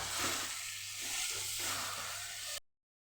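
Spinach and potato curry seasoned with salt and garam masala sizzles faintly as it is stirred in a pan, a soft steady frying hiss with gentle scraping, then cutting off abruptly.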